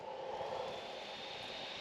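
A faint, steady whir of a small ventilated seat fan motor in a truck cab hums continuously, with no voices and no change in pitch.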